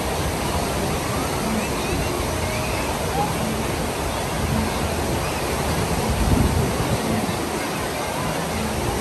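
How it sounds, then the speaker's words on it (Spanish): A wave pool at the Aquatica SeaWorld water park in Orlando, Florida, gives off a continuous broad wash of surf-like rushing water, steady and moderately loud, with a slight swell in the middle. "Ahí están las olitas del mar."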